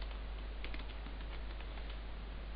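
Steady tapping on a computer keyboard, a continuous stream of soft clicks at a quiet level over a low background hum, with no talk.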